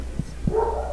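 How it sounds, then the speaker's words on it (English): A dog gives two short, sharp barks at close range about a quarter second apart, and a low whining tone follows. "Oh my God, these dogs."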